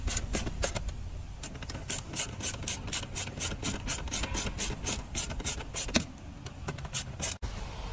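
Wrench tightening a bolt on a rear table mount, heard as a steady run of rapid, even ratcheting clicks up close, continuing for several seconds with a brief pause near the end.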